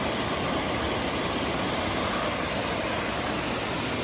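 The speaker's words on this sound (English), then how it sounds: "This is my favorite waterfall of the three we've seen now." Indian Creek Falls on the Benton MacKaye Trail pours as a steady, even hiss of rushing water, constant and moderately loud with no variation or voices.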